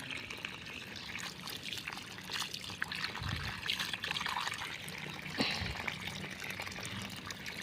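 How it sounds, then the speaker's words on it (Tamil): Water trickles and pours steadily onto okra plants in a home garden, a soft, continuous stream with faint splashing and occasional rustling nearby. "எல்லாத்தையும் தண்ணி சரி சமமாக போகிற மாதிரி"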